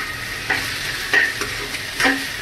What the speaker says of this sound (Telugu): ఎందుకంటే నేను ఎగ్ ముందుగా ఫ్రై చేసుకుంటున్నాను.